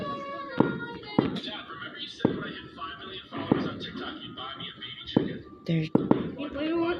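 Fireworks in the Roblox video game pop and crackle in several sharp bursts, with a faint voice in the background.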